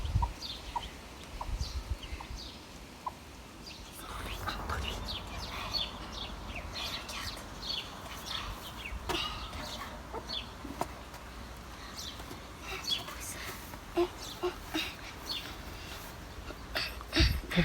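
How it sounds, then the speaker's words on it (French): Newly hatched chicks peep in a thin, high chorus of scattered short cheeps, soft and fairly distant over a low indoor hum, with no clear talking. "T'as vu les poussins, Maël?"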